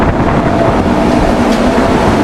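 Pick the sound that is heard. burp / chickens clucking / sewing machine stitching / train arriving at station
train arriving at station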